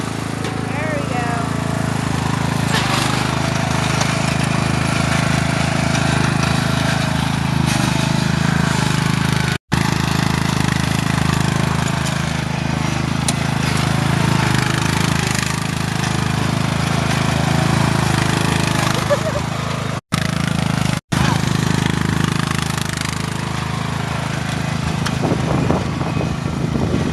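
A lawn mower engine runs steadily and loudly throughout, a constant close drone with occasional voices talking over it.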